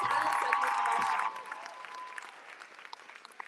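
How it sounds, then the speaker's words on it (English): Audience applause fills a hall at a fraternity-hosted pageant after the talent segment, dense and steady clapping with some cheering at first, then thinning to scattered claps as a tonal sound fades. "Please, another round of applause for Olivia and all of our contestants tonight"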